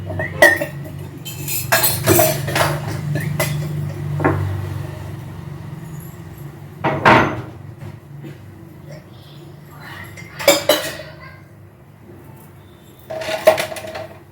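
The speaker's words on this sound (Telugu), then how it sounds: "టిఫిన్ గిన్నెలు అయితే చూడండి ఎన్ని అయిపోయినాయి, ఎన్ని తోమాలి మరి" Tiffin dishes and pots clink and clatter in bursts as they are gathered for washing, with loud handling at the start and sharp knocks scattered later over a low household hum.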